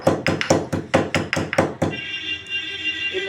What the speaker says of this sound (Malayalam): കറിവേപ്പിലൊക്കെ ഞാനിങ്ങനെ ഒന്ന് നറുമുറുന്ന് കഷ്ണം കട്ട് ചെയ്തിട്ടുണ്ട് അതിൻ്റെയൊക്കെ ഇതിൻ്റെ കൂടെ ഒന്ന് നന്നായി ഇങ്ങനെ ചതക്കി